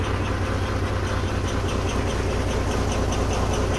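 A palm oil lorry's engine runs steadily on a rain-soaked, graded dirt road, a continuous loud low rumble with a mid-range idle-like drone and no breaks throughout.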